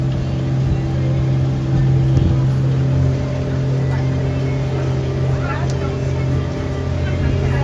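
A Disney resort cruise boat's engine drones steadily and loudly throughout with a constant low hum, and a voice speaks over it.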